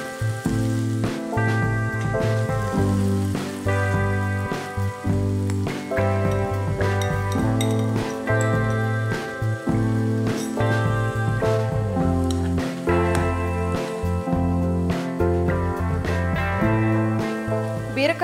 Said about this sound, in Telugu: ఇప్పుడు బీరకాయ ముక్కలు వేసుకోవాలి.